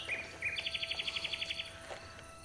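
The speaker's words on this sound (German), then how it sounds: "Hörst du? Ja, der Nachtigall." A nightingale singing, heard faintly at a distance: a couple of short whistled notes followed by a rapid, evenly pulsed trill that runs for about a second before fading into quiet outdoor ambience.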